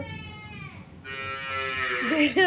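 Cattle moo close by, a long low drawn-out moo followed by rising, higher-pitched calls, with faint background noise.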